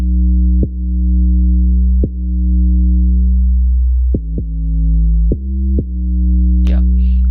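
A deep, droning distorted 808 bass synth in a hybrid trap beat made in Logic Pro X holds steady low tones, punctuated by several clicky note attacks in an uneven rhythm, with a faint brief squeak near the end.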